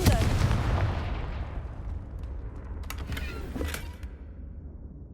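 A Confringo blasting spell bursts in Hogwarts Legacy, opening with a loud fiery blast that fades into a crackling rumble, followed by scattered sharp clicks and pops.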